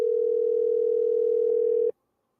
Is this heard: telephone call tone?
yes